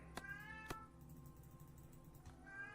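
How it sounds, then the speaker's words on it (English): A house cat meows twice in quick succession, then once more faintly near the end, indoors over a steady low hum and faint tonal background. "And my cat being annoying."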